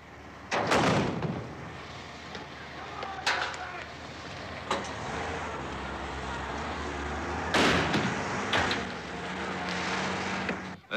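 Troops fire rubber bullets at stone-throwing youths during a street riot at a demonstration marking the first anniversary of Bloody Sunday, with several sharp, loud bangs at irregular intervals over a murmuring crowd background.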